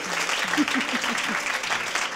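An audience claps for a song performance on a stage show, with a short burst of fairly close applause behind a faint voice.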